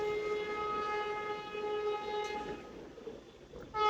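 Vande Bharat Express train arriving at a station, a steady loud roar with sustained horn-like tones through most of the stretch, easing off briefly before another sharp tonal blast returns at the end.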